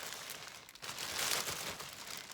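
Packaging from a Coach outlet box is unwrapped with soft crinkling and rustling. The sound is faint and continuous, swelling slightly midway, with no talking.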